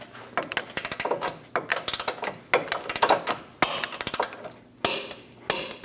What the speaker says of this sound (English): Torque the lower control arm bolt in the front to 96 foot-pounds.